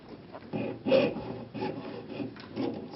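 A hand saw cuts through wood in rhythmic back-and-forth strokes, a close raspy scraping repeating about every half second.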